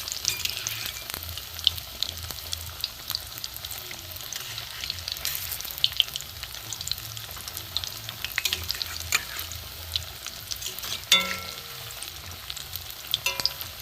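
Egg-coated brinjal rolls sizzle steadily in oil in a pan, with scattered scraping and clicking as they are stirred and flipped, close and continuous.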